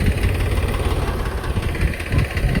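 A tractor engine idles steadily and close by, a dense, continuous low rumble with rapid rhythmic chugging and no speech.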